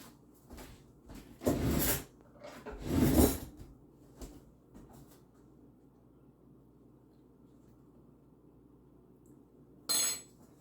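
Cutlery being handled while fetching a spoon in a home kitchen during cake making, with a few short clinking and rattling bursts separated by quiet stretches, the last one sharp and brief.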